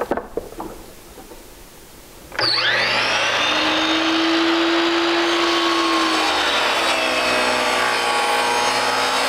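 A power saw cuts through a glued-up piece of rake crown molding for a three-piece pediment crown, starting abruptly after a few quiet handling knocks and then screaming loud and steady to the end.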